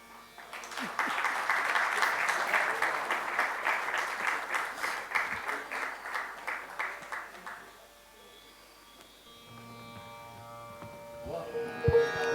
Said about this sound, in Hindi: तालियों की गड़गड़ाहट के साथ हम पंडित सपन चौधरी जी को मंच पर आमंत्रित करते हैं।